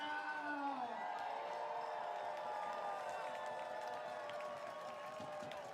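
A baseball stadium crowd at a Portland Pickles vs. Corvallis Knights game roars and cheers steadily, with many voices rising together, heard from the broadcast booth at moderate distance.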